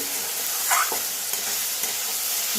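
Curry masala frying in hot oil for a duck egg curry, a steady close sizzle with a brief stirring scrape midway, no voices.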